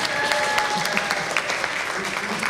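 Conference audience applauding for a speaker and interpreter at a plenary session, a steady wash of clapping with a few sharper close claps and faint voices underneath.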